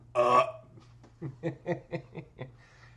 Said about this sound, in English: She'll drink it, she'll burp, then she'll look at me and laugh